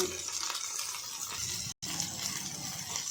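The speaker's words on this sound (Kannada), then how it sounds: "ಅದು ಚೆನ್ನಾಗಿ ಫ್ರೈ ಆಗ್ತಾಯಿದೆ" Green chillies and mint fry in a pan for an egg curry, giving a soft, continuous crackling sizzle that is fairly quiet and close, broken by a brief silent gap partway through.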